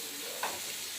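Bitter gourd fries in oil with green chilli and onion, giving a brief, steady hiss of sizzling with a small scrape or clink near the middle, close and moderately quiet.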